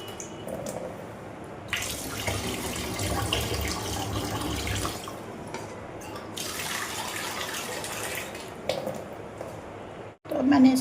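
Running tap water splashes over something being rinsed in a kitchen sink while preparing kheer, a steady broadband wash that thins out for a moment mid-way, with someone speaking over parts of it.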